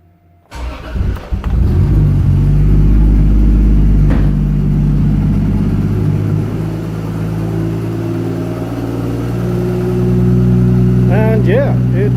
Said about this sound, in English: the engine starts up just fine without any problems